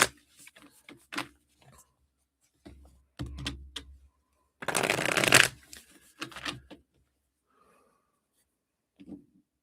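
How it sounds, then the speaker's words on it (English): Reading cards are shuffled by hand in several short bursts of riffling and tapping, with one longer loud riffle in the middle and quiet gaps between. "let's get shuffled up and get going here."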